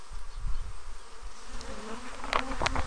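Honeybees buzzing steadily in an opened hive during an inspection, a continuous close drone with a few brief sharper rises of individual bees near the end.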